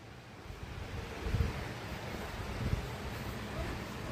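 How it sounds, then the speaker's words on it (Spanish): The roar of Apatlaco falls in Puebla: a steady, broad wash of rushing water fills the whole stretch, with no voices, only small swells in loudness. "qué bonito se escucha el estruendo de aguas"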